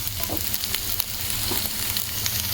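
Onion and tomato cooking down in a pan for a cashew and drumstick curry, a steady close sizzle broken by a few soft scrapes and taps of stirring.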